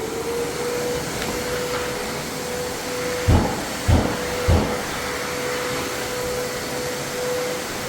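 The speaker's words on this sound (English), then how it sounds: "what I'm going to do now, guys, is vacuum the floors" A vacuum cleaner runs loudly across wood floors that are being prepared for refinishing, with a constant whining drone. Three short bumps or thuds of handling sound partway through.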